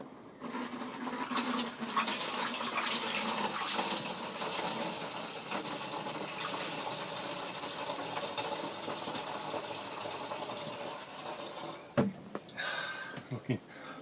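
Dirty diesel gushes and trickles steadily from a container for several seconds, a continuous pouring wash with a brief clunk near the end.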